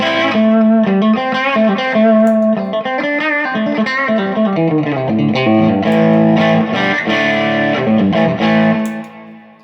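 An electric guitar plays sustained chords and single notes through a stereo reverb pedal, washed in lush stereo reverb with slight distortion, loud and close, ringing out at the end.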